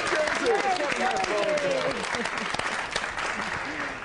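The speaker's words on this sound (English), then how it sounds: "Go ahead, you can clap for New Jersey" Studio audience at a TV interview show claps and cheers, a dense wash of applause mixed with whoops and shouting voices that gradually eases off.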